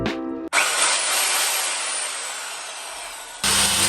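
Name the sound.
circular saw cutting plywood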